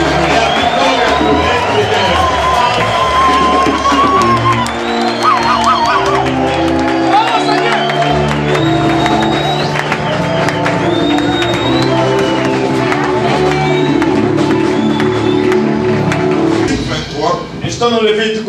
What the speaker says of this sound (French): Qu'on pousse des cris de joie parce que c'est la victoire du royaume